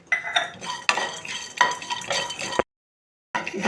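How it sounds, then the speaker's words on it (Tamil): Coconut pieces roasting in a pan on low heat for a traditional sweet, close scraping and stirring with clinks of a utensil against the metal pan, stopping briefly before resuming; no talking. "தேங்காய் பொன்னிறமாக சிம்லேயே வச்சு தான் வறுக்கணும்"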